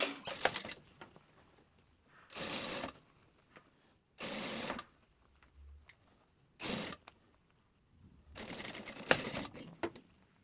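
A sewing machine stitching a finishing seam around the armhole of a mermaid dress, running in five separate bursts of rapid whirring between quiet pauses, close by.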